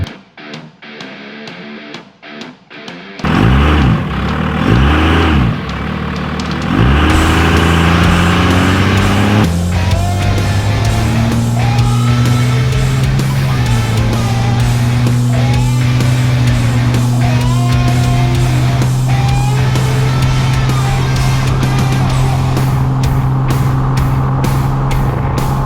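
Old farm truck without its fuel programmer accelerating from a standstill, a loud, close diesel engine and turbo revving up and holding a steady, rising drone throughout after a quiet start.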